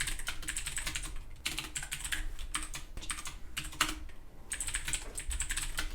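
Rapid, continuous clatter of a computer keyboard being typed on while writing code, close and steady with only short pauses between runs of keystrokes.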